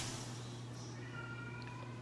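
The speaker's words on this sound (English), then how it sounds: "My cat's going crazy." A house cat meows a few times, faint and somewhat distant, beneath steady background music in a room.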